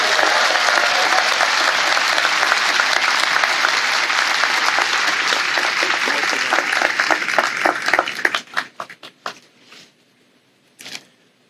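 Audience applause fills a Stetson Law commencement hall in May 2023 for an honorary degree recipient: a dense, steady ovation for about eight seconds, then thinning into scattered individual claps and a final brief burst.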